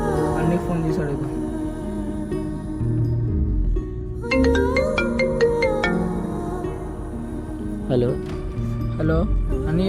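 A mobile phone ringtone plays as a run of bright, repeated electronic tones in the middle of the stretch, while people talk loudly through most of it.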